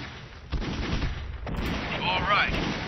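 Cannon towers firing in the real-time strategy game Army Men RTS: dull booming shots over a constant rumbling battle bed, with a muffled voice and chirps near the end.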